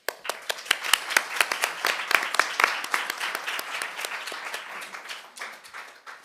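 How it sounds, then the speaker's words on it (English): Audience applause after a series of data journalism conference talks, a dense crowd of claps starting strong and slowly thinning out over several seconds, with no voices over it. "I think everyone deserves a big round of applause."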